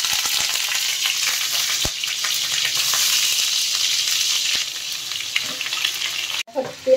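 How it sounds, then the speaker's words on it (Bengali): Potatoes and pointed gourd fry in hot oil with cumin, turmeric and chili, a dense continuous sizzle broken by a few sharp stirring clicks before a brief clatter at the end. "এবার এই ফোড়নগুলো সব দিয়ে দেবো। দিয়ে পটল আর আলুগুলো ভাজতে দেবো।"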